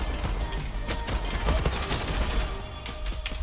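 A Glock 18 pistol with attachments fires in the online shooter Zula, a fast string of sharp, close shots spread across the moment over constant game noise.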